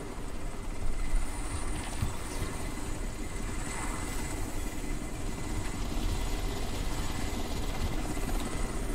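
A helicopter in the video game Crysis thrums steadily throughout, a dense low rotor rumble with broadband noise that stays fairly loud and constant from start to finish, with no speech over it.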